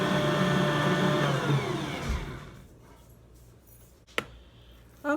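An electric mixer whirs steadily through gingerbread cookie dough, loud and close, its motor pitch sliding down before it cuts off at about two seconds, followed by quieter room noise and a sharp clack near the end.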